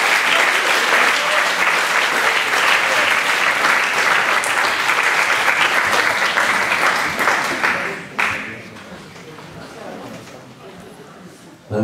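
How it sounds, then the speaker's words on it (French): Dense, sustained applause from an audience at a Fanfare de Vernier brass band concert in 2014 fills the space loudly for about eight seconds, then drops off quickly into scattered claps and quieter room noise. "On peut les applaudir."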